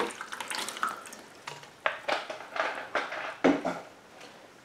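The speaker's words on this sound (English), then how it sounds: "Next will be the lemon juice." Lemon juice poured over a rusty carburetor in a container, a soft trickling liquid splash with intermittent stronger pours and light clinks of the metal parts, close and fairly quiet.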